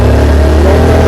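A motorbike arriving nearby, its engine a loud, close, steady mid-pitched drone that lasts only a moment.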